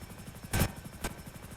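Helicopter in the video game GTA V, a faint, steady rhythmic rotor chop with two sharp, louder bursts cutting through.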